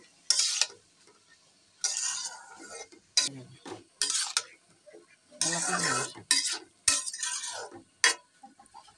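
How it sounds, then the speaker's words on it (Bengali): Spiced drumstick, eggplant and potato are tossed and stirred in a pan with fried masala, making rhythmic bursts of loud, close scraping and rustling separated by short pauses. "কষানো মশলাটা সবজির সাথে মিশিয়ে নিচ্ছি"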